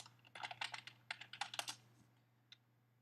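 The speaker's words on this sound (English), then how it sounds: "But if I hit claim and I enter my password," Password keys tapped on a computer keyboard in a quiet room, a quick burst of about a dozen clicks over a steady low electrical hum, then a pause and one last tap.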